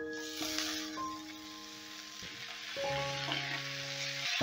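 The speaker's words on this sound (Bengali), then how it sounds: "এবার পেঁয়াজের সঙ্গে শাকটাকে একটু ভাজা ভাজা করে নেব।" Chopped kolmi greens frying with browned onions in a pan make a steady close sizzle and hiss with stirring, while sustained musical tones play quietly underneath.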